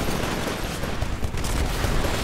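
SMG fire in the multiplayer shooter Titanfall, in a Hardpoint Domination match: dense, continuous rapid rattle of automatic shots, loud and close, filling the whole stretch with no talk.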